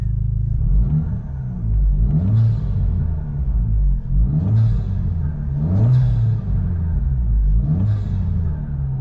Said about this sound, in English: I couldn't wait to give it some blaps with the throttle before I turned the camera on